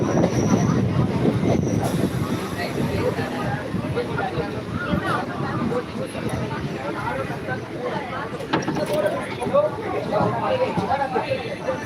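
A suburban commuter train rolls through Kodambakkam station in Chennai, steady wheel rumble and rail noise filling the scene up close, with faint squeals and clatter, while a person talks over it throughout.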